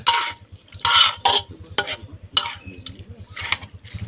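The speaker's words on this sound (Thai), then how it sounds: "คนทุกอย่างให้เข้ากัน" Steady scraping and clinking of a utensil stirring Thai larb with fish sauce in a bowl, repeated strokes with a low rhythmic ticking underneath.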